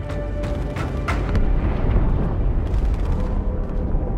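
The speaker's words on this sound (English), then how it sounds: "That explosion came from inside the Athens, same as the Malta." A deep, rumbling explosion from inside a ship in a Halo 2 cutscene rolls on steadily for several seconds, loud and dense with low-end roar and no speech over it.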